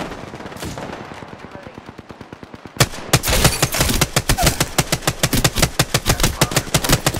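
Automatic gunfire in the Apex Legends video game, rapid loud bursts of shots, lighter at first, then a sharp blast and a dense, close volley continuing to the end.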